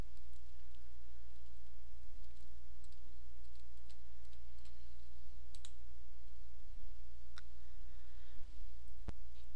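Computer mouse clicks on library website links, a few sparse, sharp, close ticks spread over a steady low hum with no talking.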